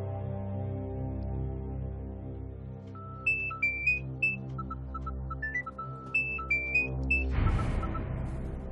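A phone rings with a series of short, high electronic beeping tones in a simple tune, heard over a sustained, low background music drone that swells near the end.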